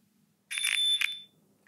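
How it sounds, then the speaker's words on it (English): A Garmin Edge 1050 bike computer sounds its electronic bell: a single bright metallic ding with a short ringing tail, followed by a faint tick, clear and close in an otherwise quiet room. "the bell on this unit, that you can hear right here"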